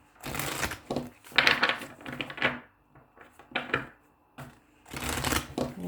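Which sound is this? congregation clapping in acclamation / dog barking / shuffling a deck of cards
shuffling a deck of cards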